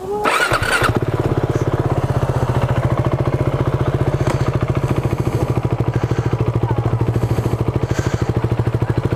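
A Husqvarna Vitpilen 701 motorcycle fires up with a short starter burst, then settles into a loud, close, steady single-cylinder idle with a rapid, even thumping pulse.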